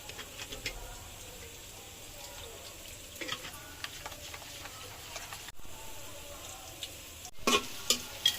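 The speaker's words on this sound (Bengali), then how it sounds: "একটু চিলি ফ্লেক্স দিলাম। এখন এগুলোকে আমি একটু মিক্স করে নিই।" A spoon stirs whole spices, including star anise, nutmeg and mace with chili flakes, in a pot. The stirring is soft and scraping with a faint sizzle underneath, and a few sharper clinks come near the end.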